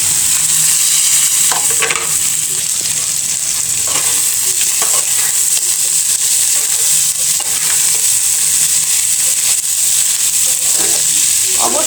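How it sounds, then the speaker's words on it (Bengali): Beef tripe and potatoes stir-fried together in spiced oil, a steady close sizzle with intermittent scraping stirs running throughout, no voices. "এখন দিয়ে দিব বুড়ি আর আলু একসাথে দিয়ে ভালো করে কষিয়ে নেব"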